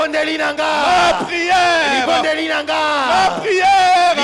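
A worship congregation in Kinshasa acclaims and cheers, a loud massed shout of voices rising and falling in sustained waves, close and continuous throughout.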